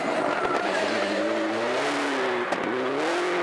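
A rally car engine screams continuously under load on a forest special stage, revving and shifting in pitch as it works toward a hairpin during the ECB Power Stage, loud and close throughout with no talk.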